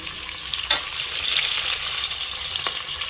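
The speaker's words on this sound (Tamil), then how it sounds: "வெங்காயம் நல்லா ப்ரௌன் கலர் ஆகிற வரைக்கும் வெயிட் பண்ணலாங்க" Onions fry steadily in hot oil until they brown, a dense, continuous sizzle with a few brief stirring scrapes, fairly close and alone.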